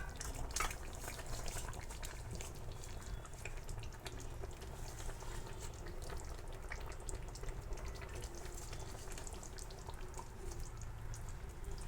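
A covered pan of mixed vegetable curry for Bhogi simmers quietly, giving a soft continuous bubbling and sizzling hiss at low volume with no voices.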